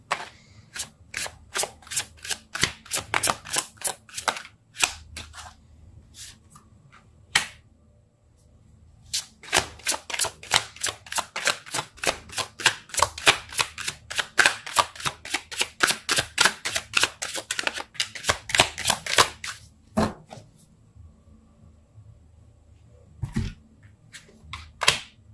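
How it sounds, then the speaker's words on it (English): Tarot cards shuffled by hand during a love reading, a close rapid riffle of crisp papery flicks in bursts with short pauses between, no talking. "I just can't shuffle."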